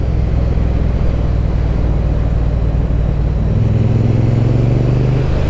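A BSA motorcycle's engine rumbles steadily and loudly while riding, a deep continuous drone with a slight rise in pitch partway through.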